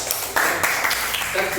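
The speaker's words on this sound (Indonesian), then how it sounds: "Tepuk tangan untuk" Classroom applause from an eighth-grade class, a brief burst of dense clapping close by, mixed with a voice speaking over it.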